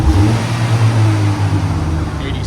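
A stock-exhaust 2006 Pontiac Solstice 2.4L engine revs loudly and steadily up close, a deep throaty drone holding at high revs throughout with no talking.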